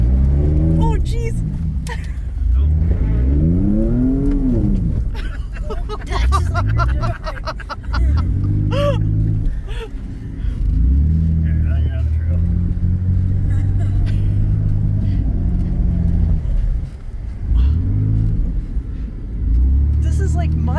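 A mud truck's engine revs hard and repeatedly while it ploughs through deep mud on a mud run, loud and close, with the engine pitch rising and falling in long surges and people talking over it.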